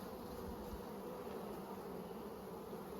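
Honey bees hum in a dense, continuous drone from an open brood box full of young nurse bees, close and steady with no other sounds.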